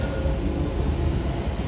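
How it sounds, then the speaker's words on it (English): A London Underground train on the Waterloo and City line platform, a steady, loud rumbling rail noise throughout the short span with no talk. "There's a train down there, it's not ours."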